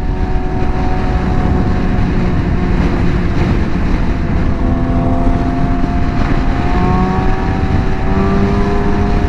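A motorcycle engine drones loud and steady throughout a ride, a dense rumble mixed with rushing wind and faint shifting whine tones, with no pauses.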